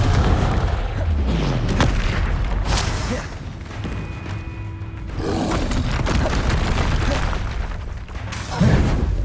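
The Confringo explosive spell goes off repeatedly in the Hogwarts Legacy video game, with heavy deep booms and thuds over a dense, continuous battle din, then a quieter stretch before the blasts resume.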